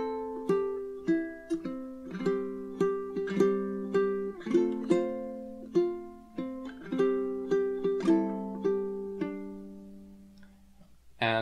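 Fingerstyle ukulele playing a bar of a song, with clean plucked notes and chords in a steady, lilting rhythm, each note ringing and decaying close-up, slowing and thinning toward the end.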